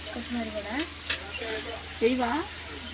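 Chicken fry being stirred in a pan with coriander and curry leaves, a steady sizzle under scraping strokes of a spoon, with a voice talking over the cooking.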